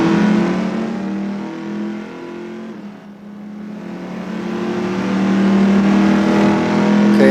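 A car engine revving hard under heavy acceleration, loud and close, with a sustained roaring drone that dips briefly and then climbs again in pitch and volume.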